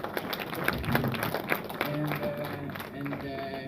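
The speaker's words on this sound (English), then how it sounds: "You can clap." Audience clapping at a church movie screening event following the Israeli ambassador's speech, a scattered patter of hands with some talk mixed in.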